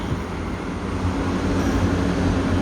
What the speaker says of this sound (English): wait for the train